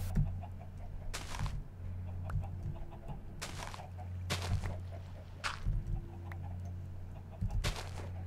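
Chickens clucking in a chicken pen in a video game, a string of short, sharp clucks and squawks at irregular intervals over a low steady hum, fairly close and moderately loud.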